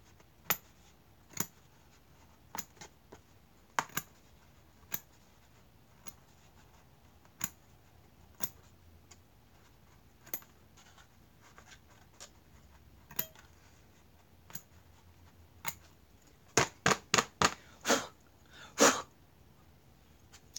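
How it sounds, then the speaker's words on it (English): Scissors snip embroidery threads on an embroidered coaster, with sharp isolated clicks spaced a second or two apart, then a quick cluster of snips near the end. "now I need to go back and trim the threads."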